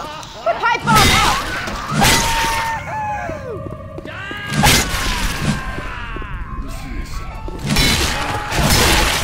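A pipe bomb goes off amid zombie chaos in Left 4 Dead 2, giving heavy crashing, thudding blasts in several loud bursts over a dense din of shrieks and voices.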